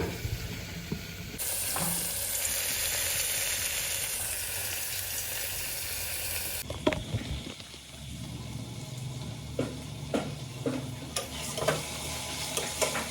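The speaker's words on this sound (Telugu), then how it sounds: "అది ఆనియన్స్ అనేది బ్రౌన్ వచ్చే వరకు వేయించుకోవాలి" Onions frying in a pan for egg pulao give a steady, fairly loud sizzle with occasional stirring clicks and scrapes. Partway through, the hiss drops in tone and becomes rougher, with spoon taps near the end.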